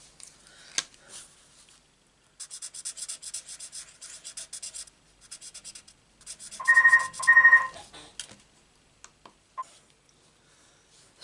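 A telephone rings during a quiet card-making session, two distinct ring bursts close together in the middle, amid earlier rustling and scratching of paper and craft tools.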